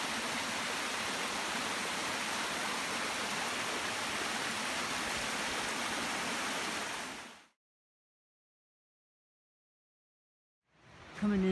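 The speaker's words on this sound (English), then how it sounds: "Lovely little creek here with the birds." Fryingpan Creek rushes in a broad, steady wash of flowing water close by for about seven seconds, then cuts off to silence before faintly resuming at the end.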